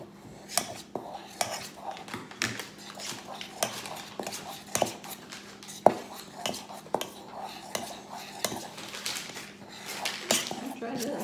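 Cookie mixture stirred in a bowl, a spoon scraping and clinking irregularly against the sides at close range, with quiet voices talking over it.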